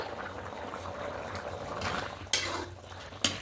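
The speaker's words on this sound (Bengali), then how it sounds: "এবার ঢাকাটা খুলে নেবো দেখুন ফুটতে শুরু করে দিয়েছে" Paneer chana masala gravy bubbling in a pot with the lid just lifted, a soft continuous simmer with a couple of sharp metallic clinks from the pot.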